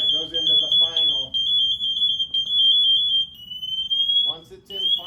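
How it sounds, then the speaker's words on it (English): Final alarm of an MSA SCBA breathing apparatus: a loud, sustained high-pitched electronic tone sounding continuously with brief dips, while someone talks over its start and end. "Once it's in final alarm, you have to double tap, tap, tap."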